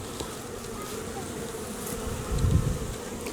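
Honey bees swarm around a newly started hive, a steady dense buzz holding close and continuous throughout, swelling briefly louder near the end.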